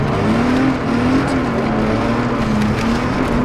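A BMW engine drones loudly and steadily through a drifting run, holding a sustained revving tone with slight pitch swells and no clear gaps.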